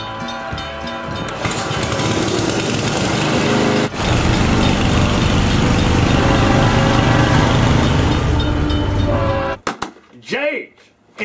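A small engine drones loud and steady as it comes through a telephone line, running continuously for about nine seconds before cutting out, after which brief voices are heard.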